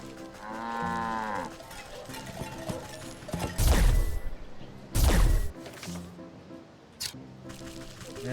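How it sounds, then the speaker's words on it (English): A cow moos in a video game, loud and close, with crashing game sounds and clattering effects around it. "Alright, the cow is up here."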